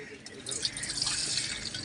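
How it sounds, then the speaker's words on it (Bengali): Cooled rice starch water being poured, a steady watery splashing stream that swells after a brief start and continues evenly to the end. "তো বন্ধুরা ভাতের মাঠটা ঢেলে নিলাম।"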